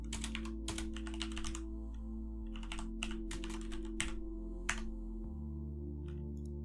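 Rapid bursts of clicks come from a computer keyboard as game code is typed in Godot, close up with short pauses between runs over a low steady hum.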